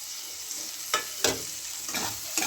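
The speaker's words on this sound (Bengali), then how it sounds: "ভালো করে মশলাটা কষে নেব" Spice masala with green chillies being stir-fried for a small-fish curry: a soft, steady oil sizzle broken by several scraping stirs of a spoon against the pan, close and moderately quiet, with no talking.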